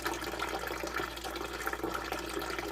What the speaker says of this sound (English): So let's watch this bilge come on one more time. It pumps out fast.